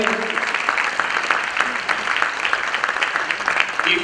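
Audience applauding at a graduate sales bootcamp in Tanzania, a dense steady patter of many hands clapping throughout, fairly loud, with faint voices mixed in.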